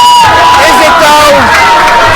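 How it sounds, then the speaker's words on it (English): A capacity crowd at a 3WA wrestling show roars and cheers continuously, loud and dense, with shouting and whistles rising through the swell. "Listen to this capacity crowd. They love the dude."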